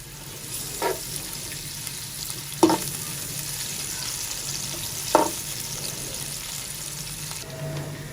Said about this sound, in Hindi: सबसे पहले हम प्याज फ्राई करेंगे।